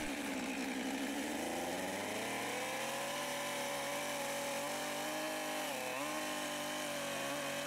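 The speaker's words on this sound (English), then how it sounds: "As the chainsaw cuts the wood," A chainsaw cuts a diamond-saddle notch in a log, its engine snarling steadily and close throughout, pitch shifting slightly as the bar bites into the wood, with no talk over it.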